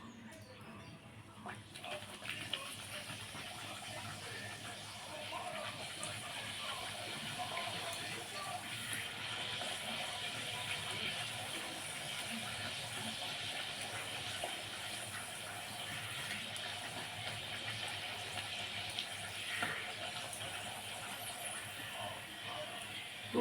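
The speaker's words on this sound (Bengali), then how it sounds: "দুটো পাঁপড় ভেজে নিলাম।" Papad frying in hot oil gives a steady, faint crackling sizzle that runs unbroken, with a low background hum and no clear talk.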